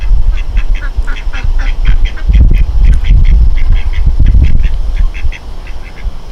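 Ducks at a backyard duck pond quack in steady repeated calls, loud and close, over low rumbling outdoor noise and splashing.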